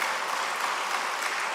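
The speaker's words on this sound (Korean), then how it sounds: "박수 한번 쳐주세요" A Korean church congregation at Sunday worship gives a brief burst of dense, even applause to welcome a newly registered member, loud and steady throughout.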